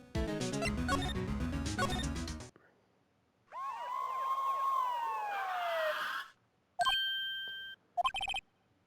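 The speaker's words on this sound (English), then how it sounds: "The police! Sounds like they're coming this way." A police siren wails with rising and falling sweeps in the courtroom adventure game Phoenix Wright: Ace Attorney, arriving after a burst of game music and followed by sharp chimes and dings, with no talk.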